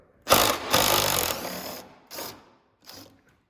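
A ratchet backs out 12 mm tailgate strut bolts on a Lexus LX570 rear hatch, one long rattling burst followed by two short clicking spurts, close and loud with no talk.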